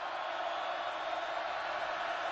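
Steady roar of a stadium crowd at a 2015 college football game between TCU and Kansas State, a dense, even wash of massed voices filling the whole clip with no single voice standing out.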